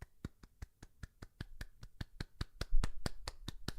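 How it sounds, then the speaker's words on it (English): Light, even hand clapping in a steady rhythm, about eighteen quick claps from one person at close range, briefly getting a little louder near the end. "you get a little bit of a golf clap for good measure"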